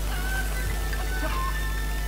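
Chickens clucking in the video game Zelda Breath of the Wild, a steady low murmur of fowl sounds with a few brief cackles over constant background hum.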